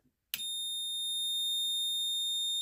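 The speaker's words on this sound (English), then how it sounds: "We hear the multimeter saying we've got continuity" A digital multimeter sounds a continuous high-pitched continuity beep while its leads touch the terminals of a switch on a Rikon 70-220VSR lathe, starting abruptly and holding steady and loud to the end.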